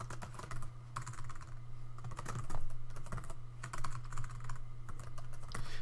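A new folder name typed on a computer keyboard during a drive backup: steady runs of close, crisp key clicks in irregular bursts over a low constant hum, with no talking.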